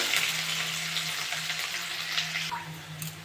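Chopped onion frying in hot oil in a pan for a prawn and taro-leaf dish, a steady close sizzle with faint stirring scrapes throughout.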